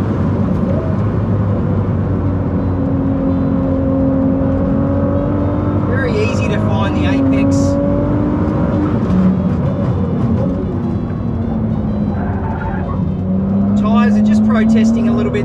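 Ferrari 296 GTB at high speed on a race track, its engine droning loud and steady with rising pitch sweeps as it accelerates, continuous throughout, with some indistinct voice mixed in.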